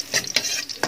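Ginger sautéing and being stirred in a pan, heard alone as short scraping sizzles in three quick bursts at close range.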